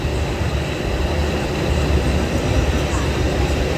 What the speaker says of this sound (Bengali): এখন আমাদের train down Barasat Sealdah local এখন ছাড়লো বারাসাত জংশন থেকে